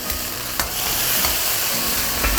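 Sauce with scallion pieces bubbling and reducing in a hot wok for a shrimp dish, with loud close sizzling and sharp spatula scrapes and stirs recurring through the clip, no talk.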